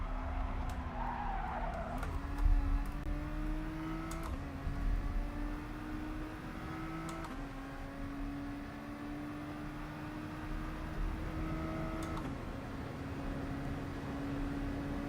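Race cars in the GT Sport video game skid under heavy braking at Dragon Trail, tires squealing in long sustained tones over a droning engine, with shifting pitch and several sharp clicks as the car works through the corner.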